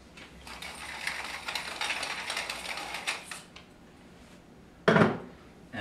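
A pepper mill grinds black pepper over a Chicago deep dish pizza, a steady ratcheting crunch for about three seconds, then one short louder burst of grinding after a pause.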